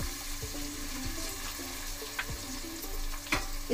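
Chopped tomatoes sautéing in a pan while biryani rice is made: a soft, steady sizzle with scattered faint clicks and scrapes of stirring, close by and fairly quiet, with no talking.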